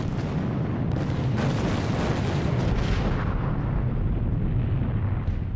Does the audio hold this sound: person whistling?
no